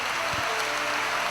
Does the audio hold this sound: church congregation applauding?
yes